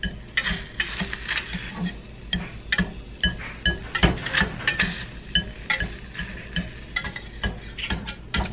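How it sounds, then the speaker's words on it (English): Whisk mashing berries in a pot as they heat, giving quick irregular clinks and scrapes of metal against the pot, close and fairly loud with no talk. "let's just keep mashing with the whisk until it heats up, till these berries heat up"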